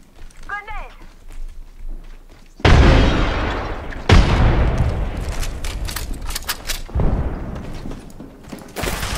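Grenades explode in the battle royale shooter Apex Legends. Two heavy, close blasts come a second or so apart, each with a long rumbling tail, and sharp gunfire pops and players' voices run over them.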